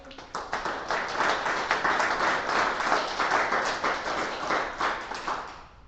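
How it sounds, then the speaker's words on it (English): Audience applause at a community book event finale: a dense, steady round of clapping that carries on without a break for several seconds, moderately loud, with no talking over it. "Do another round of applause for Darcy."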